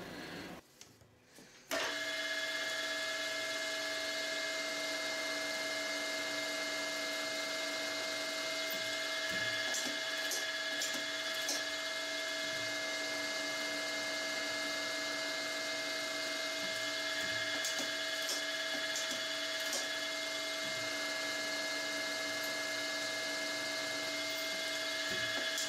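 A lathe machines the outside of nuts held on an arbor, with a steady high-pitched machine whine and hum and faint intermittent scraping ticks of cutting throughout, no talking.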